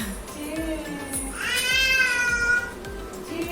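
A young child imitates a cat, giving a drawn-out rising and falling meow up close in a home, with faint rhythmic tapping beneath.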